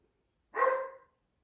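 A single puppy bark, one short loud yap lasting about half a second, up close in a quiet indoor room during a crochet session.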